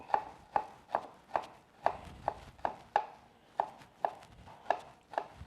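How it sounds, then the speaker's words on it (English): Garlic cloves sliced thin with a knife on a cutting board, about a dozen crisp, evenly spaced chops close by, with no talking. "I'm going to slice small pieces of garlic"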